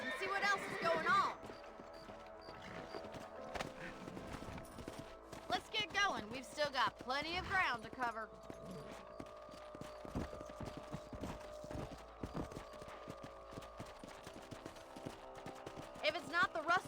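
Horses trot with a steady clip-clop of hooves in the video game Red Dead Redemption, with voices talking over the hoofbeats and moderately quiet game ambience.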